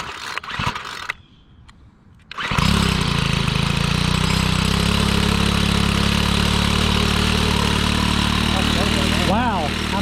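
A Troy-Bilt 4-cycle string trimmer engine pulled over a couple of times, then catching and settling into a steady, loud, close idle that runs on continuously, with someone talking briefly over the start.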